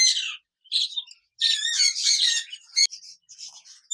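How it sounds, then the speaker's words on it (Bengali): A pair of budgerigars chirps and warbles up close in bursts, with short pauses between quick, bright twittering phrases and one sharp squawk. "এখানে দেখতে পাচ্ছেন এক জোড়া বাজরিকার পাখি রয়েছে"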